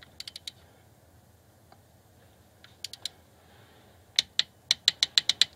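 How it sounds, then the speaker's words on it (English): A ratchet wrench tightens M8 bolts on a Mercedes M112 V6 water pump, crisp metallic clicking in short bursts of three or four, then a faster run of about ten even clicks, close and alone. "I'm just torquing down the larger, I think they're M8 bolts."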